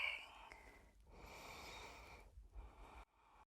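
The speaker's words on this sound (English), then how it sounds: "Breathing." Close, airy breaths during a yoga flow: a long, steady exhale, then further breaths broken by short pauses, with no talking.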